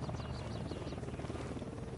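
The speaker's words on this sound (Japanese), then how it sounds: "ヘリが近づいてる。" Helicopter approaching in the video game Ghost Recon Wildlands, a steady loud rotor drone with a broad low rumble that fills the whole stretch, constant rather than building, with no talk over it.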